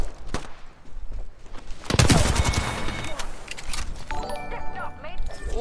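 Bursts of gunfire in the battle royale game Apex Legends crack out in quick clusters, loudest in a sharp volley near the middle, mixed with other game effects while a player talks over them.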